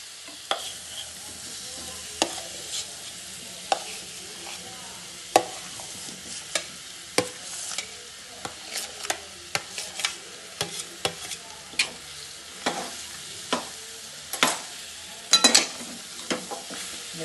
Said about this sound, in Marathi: याच्यात हे कुस्करलेले बटाटे टाकून देते।